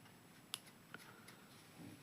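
Scissors snipping beige crochet yarn, one quick crisp snip followed by a fainter click, close and quiet.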